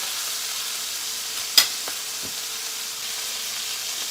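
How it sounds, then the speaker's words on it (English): Beef roast searing in a hot pan, a soft continuous sizzle and hiss with one sharp pop or clatter as the meat is turned, followed by a couple of fainter ticks; no talk. "I'm gonna let it sear just a little longer here. Turn a little bit in the pan, pick up another hot area."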